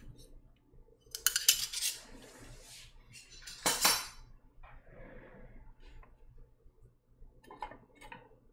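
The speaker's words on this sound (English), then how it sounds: "Let's move the screws aside." Small metal screws from a Time TKL mechanical keyboard case clink and rattle as they are pushed aside on a hard surface, with bursts of bright jingling and scattered lighter clicks up close, no voices.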